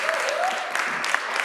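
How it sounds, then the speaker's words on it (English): Brief applause at a Springfield city council meeting: a steady patter of many hands clapping, with a faint voice or tone running underneath, lasting only about a second and a half. "Let's give him a round of applause."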